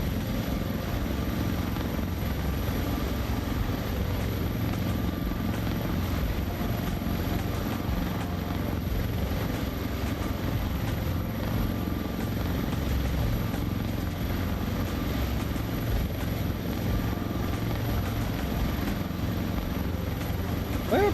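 Simulated CowanSim Sikorsky S-76C++ helicopter in flight gives a loud, unbroken rotor and turbine drone that stays even throughout.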